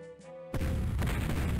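A sudden heavy boom of cannon fire from the Civil War Generals 2 strategy game breaks a quiet tone, then a loud, dense rumble of bombardment fills the rest, close and sustained.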